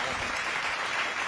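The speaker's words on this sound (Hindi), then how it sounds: "अगर आप लोग भरपूर तालियां बीच बीच में देते रहोगे" An audience at a Hindi poetry recital applauds, a dense, steady wash of clapping that fills the whole short stretch without a break.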